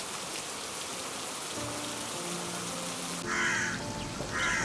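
Steady heavy rain falling continuously over village lanes already flooded with water, a dense even hiss throughout, with a few bird calls breaking through near the end.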